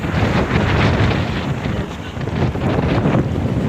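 Strong amihan monsoon wind blows over the sea on the Pacific, roaring as loud continuous buffeting with gusts battering the microphone and surf rushing underneath.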